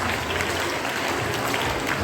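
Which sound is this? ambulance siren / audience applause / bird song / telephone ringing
audience applause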